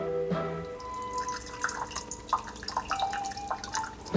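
Water drips and trickles from a Flair 58 lever espresso maker where it should not be leaking, a close run of irregular small drips and splashes with no talking.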